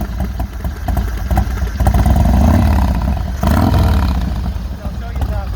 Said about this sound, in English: Let's go ahead and fire the bike up, see how she sounds.